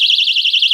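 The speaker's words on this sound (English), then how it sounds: "It's an alarm." A small novelty personal alarm bought at a mall shrills loudly and steadily, a piercing warbling tone pulsing rapidly for under a second before cutting off abruptly.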